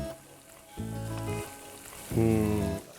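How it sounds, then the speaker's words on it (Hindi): Whole cardamom pods and cloves roast in a pan for a paneer pepper fry, crackling and sizzling in two short bursts separated by a brief lull. "जो इलायची डाली है, जो लौंग डाला है, अब वो भुनने शुरू हो गए"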